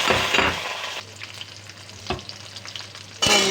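Chopped carrot frying with green chilli and panch phoron in a pan, a loud crackling sizzle that drops to a steadier hiss with stirring scrapes, then bursts loud again near the end, close by with no voices.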